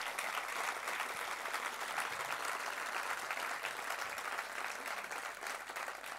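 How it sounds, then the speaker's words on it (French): Audience at a political rally, the Fête de la Violette, applauding volunteers and the campaign team: a dense, steady wash of many hands clapping together, continuous and fairly distant throughout, with no speech on top. "Je vous demande d'applaudir chaleureusement tous nos bénévoles et notre équipe."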